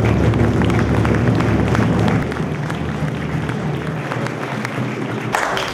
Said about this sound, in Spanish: yo creo que bien viene reivindicarlos hoy acá y aplaudirlos